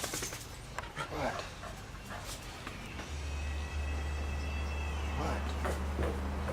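A German Shepherd pants in rapid, close breaths while a person talks to it softly, and a steady low hum joins partway through.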